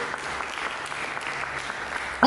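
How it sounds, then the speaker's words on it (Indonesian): Congregational applause in an Indonesian church service, a steady broadband patter of many hands clapping at moderate loudness, continuous and even throughout with no talk over it. "Mari berikan tepuk tangan bagi Yesus."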